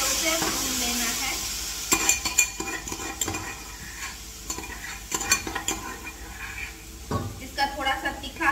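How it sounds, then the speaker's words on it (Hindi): A spice paste with curry leaves fries in a pan while a metal spoon stirs it, giving a sizzle under repeated clinks and scrapes against the pan. "अब ये अच्छी तरह से उसे भून लेना है।"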